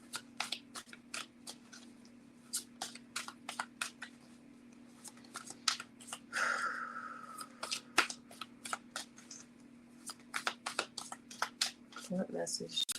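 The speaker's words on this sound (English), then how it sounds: "Bridge shuffle and what do I call this? Finger shuffle." A deck of cards is thumb-shuffled, giving a run of quick crisp riffling flicks in irregular bursts, close and fairly quiet, with a brief voice partway through.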